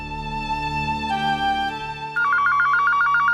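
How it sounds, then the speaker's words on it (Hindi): A phone ringtone plays steady electronic tones, then shifts into a rapid warbling trill, loud and close with no voices. "जरा देखो तो किसका फोन है।"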